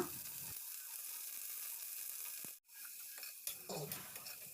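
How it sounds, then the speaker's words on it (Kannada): Ginger, garlic and onion fry in hot oil with a steady broadband sizzle. The sound breaks off briefly near the middle, then resumes with a few stirring clatters. "ಶುಂಠಿ ಬೆಳ್ಳುಳ್ಳಿ ಈರುಳ್ಳಿ ಮತ್ತು ಒಂದು ಸ್ವಲ್ಪ ಆಯಿಲ್ ಹಾಕ್ಕೊಂಡು ಫ್ರೈ ಮಾಡ್ಕೊಳ್ಳೋಣ"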